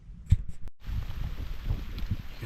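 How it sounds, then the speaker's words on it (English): Heavy rain pours down outdoors in the West Virginia woods, a dense steady hiss of drops on leaves and ground, with a couple of brief knocks and rustles close by near the start. "It wasn't supposed to be raining at all today, but it is. If you can hear that, yeah, it's pouring."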